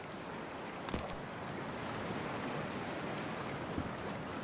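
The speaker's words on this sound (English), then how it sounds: "Freezing-ass water, here I come." Toxic water sloshing and washing around as a character wades in, in Cyberpunk 2077: a steady, noisy wash like surf, close and moderate, with a couple of faint splashes and no voices.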